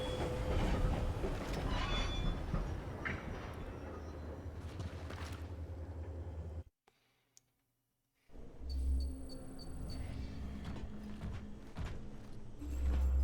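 A moving train in the video game Cronos: The New Dawn rumbles and rattles with low, steady wheel noise, broken by a few seconds of near silence before the clattering ride resumes.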